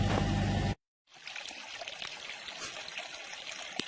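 Spring water from the Amanos Mountains trickles and dribbles steadily, a soft continuous splashing stream heard close up after a brief cut of silence.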